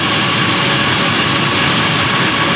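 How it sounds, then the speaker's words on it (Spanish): Jet engines of a JAL Boeing 787 in flight give a loud, steady broadband roar with an even high whine inside the cabin, unbroken throughout. "vamos a escuchar el sonido del motor de ese avión"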